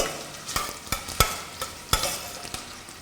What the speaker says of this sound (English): Just going to stir this a bit.